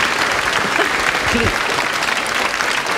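Dense, sustained applause from a live variety-show audience, loud and even throughout, with a voice faintly heard through the clapping.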